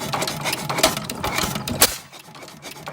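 An International Harvester 6 HP Famous stationary engine with no muffler runs at about 200 RPM, giving a steady, loud mechanical clatter with irregular sharp bursts that stops abruptly near the end.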